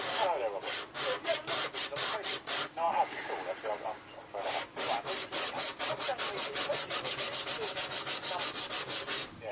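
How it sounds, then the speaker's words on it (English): A guitar nut filed flat against a file on a table, rapid rhythmic rasping strokes in two bursts separated by a short pause, close and steady. "So just file flat down on the table and try and keep even pressure along the length of the nut."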